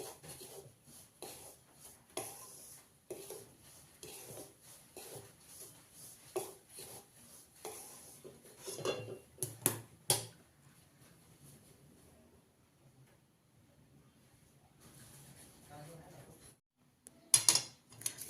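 Semolina (rava) being roasted and stirred in a pan gives faint, intermittent scraping and rubbing strokes with occasional light clinks, quiet and irregular, with brief pauses between bursts.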